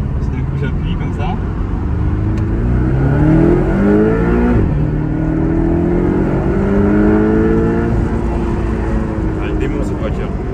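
A Porsche 718 Cayman engine revs loud and close from inside the cabin, pitch climbing through two long acceleration pulls with a brief drop between them, sustained over about ten seconds.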